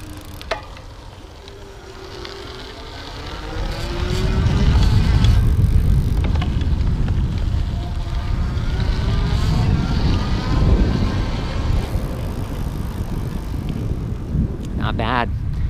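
Electric bike with pedal assist ridden outdoors in a hard gear at a slow cadence, with a steady rumbling roll and motor whine that rises and falls as the pedaling starts and stops, and wind noise throughout.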